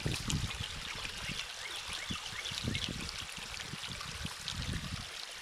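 Runoff water from a flooded back field rushes steadily through a culvert at a beaver dam, a continuous close gurgling stream with splashy bursts and no voices.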